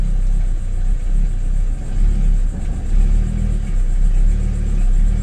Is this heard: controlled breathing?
no